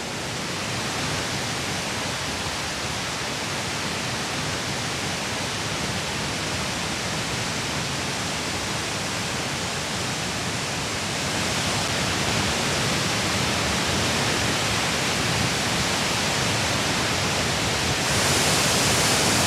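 A waterfall with water cascading down and spray rising sends up a steady, dense roar of falling water that holds constant throughout, with no voices.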